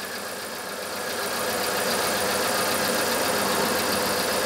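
A Nissan Micra K11 petrol engine idling close by, with a steady, even hum and a faint mechanical tick that stays constant and slightly rises in level as it settles.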